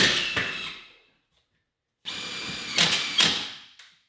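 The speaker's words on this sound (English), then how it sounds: "I screw the stud directly to the steel structure that is behind" A power drill drives a screw through a wooden stud into a steel structure behind drywall: a whining burst that winds down, a second of silence, then another longer drilling burst that stops abruptly, loud and close.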